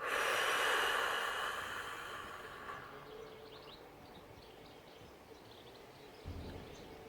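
During a relaxation breathing exercise, a person lets out a slow, airy breath close to the microphone. The exhale starts strong and fades gradually to near silence over a few seconds.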